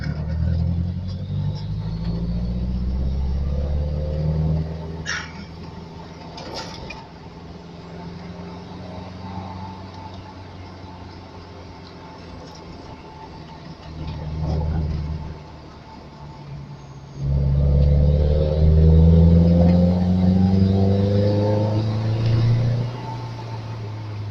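A Fiat X1/9 prototype fitted with a Fiat GT turbo engine drives along a winding road, its engine rising and falling through several revving pulls over a steady rumble, with brief speech in between.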